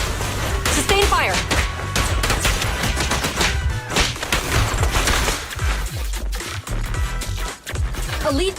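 Sustained gunfire in the Zenless Zone Zero action game, loud continuous bursts of shots and impacts throughout, mixed with combat effects and voices speaking.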